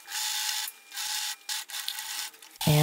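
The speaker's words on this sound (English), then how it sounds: "And I finish the edges with my overlocker." Overlocker serging the raw fabric edges of a ruffle-collar puff-sleeve blouse, a loud steady mechanical whir with brief pauses between runs, ending in a sudden lower knocking sound.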